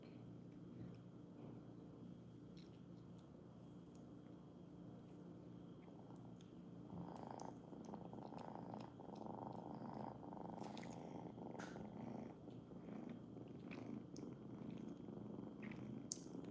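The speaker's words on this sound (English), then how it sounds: "Cute cat." A cat purrs steadily and close by for the whole stretch, a soft continuous rumble with no one talking over it.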